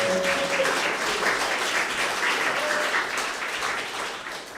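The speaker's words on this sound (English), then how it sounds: "we definitely need to give a big round of applause to the Eastside" An audience claps for the Eastside team at a Haiti call-to-action event, with dense, sustained applause from a crowd that stays loud and fades slightly toward the end.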